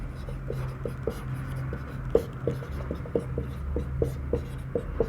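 Chalk or marker taps and scratches across a board in quick, uneven strokes during a maths lesson on pie charts, moderately close over a low steady hum, with faint background murmur.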